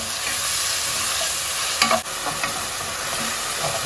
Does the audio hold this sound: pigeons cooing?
no